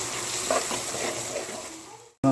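Masala for wheat kothu parotta sautés lightly in a pan with garam masala added, giving a steady close sizzle and stirring scrape that cuts off abruptly near the end.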